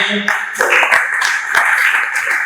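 Audience applause and clapping at a lively gathering in Nairobi, Kenya: a steady wash of hand claps with scattered sharper claps, fairly loud and close, blended with crowd noise.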